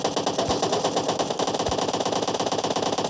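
Rapid automatic rifle fire rattles nonstop in the PUBG battle royale game, a dense, loud, even stream of shots with no pauses and no voices.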